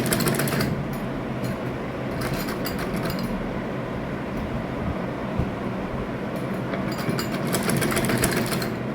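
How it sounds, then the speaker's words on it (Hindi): A sewing machine stitches a coat collar in a fast, continuous whirring run with brief pauses and bursts of louder mechanical chatter, heard close and alone. "अब जहाँ ये टुकड़ी रखी हुई थी इधर तक आपने सिलाई लगानी है।"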